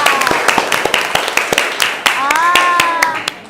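A classroom group of students claps their hands, giving a string of sharp, closely spaced claps over a few seconds with voices chattering and a teacher talking alongside.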